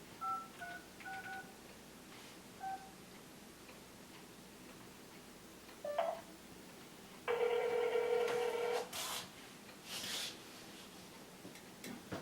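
Touch-tone telephone keypad beeps dial a number in short, evenly spaced pairs of tones, followed by a louder, steadier telephone signal tone and a few faint clicks on the line.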